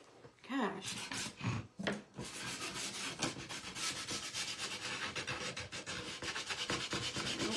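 Steady rhythmic rasping of painted wood being sanded with a hand sanding block, continuous back-and-forth strokes close up after a few brief knocks.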